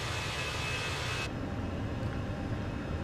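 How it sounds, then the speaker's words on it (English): Jet engines of a Fenix A320 climbing out of San Diego in Microsoft Flight Simulator give a steady, broadband roar with a low rumble, a high whine cutting off partway through, and no talking. "I love the sound of those engines."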